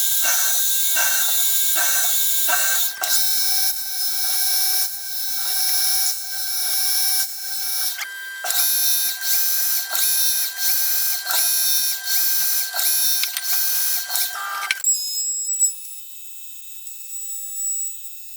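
Milling machine drilling and then milling 5 mm soft steel: a loud mechanical whine with bright tonal harmonics that pulses in short repeated bursts as the cutter engages, then settles into a thinner steady tone before fading.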